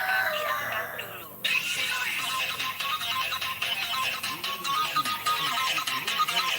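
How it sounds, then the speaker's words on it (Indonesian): An incoming-call ringtone plays at a steady level through a noisy port setting, with bright electronic tones and continuous background clatter and chatter. "tamu menerima telepon, silakan diangkat dulu"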